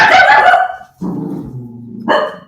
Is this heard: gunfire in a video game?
no